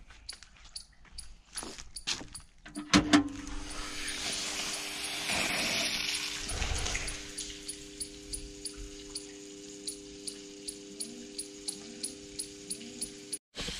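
A household electric water pump motor kicks on with a thump, then hums steadily with a faint whine while water gushes and splashes. Later, soft rhythmic clicks tick over the constant drone, and no voices are heard.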